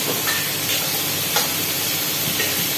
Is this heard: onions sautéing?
yes